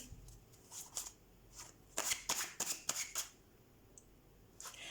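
Tarot cards are shuffled by hand in short riffling bursts, several quick flurries of crisp card flutter up close, separated by brief quiet pauses, with no talking.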